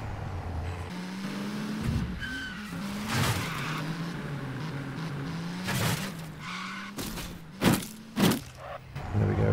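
Truck driven in Modern Warfare Zombies, its engine droning steadily and shifting pitch as it moves, with tire skids and several sharp bangs and impacts near the end.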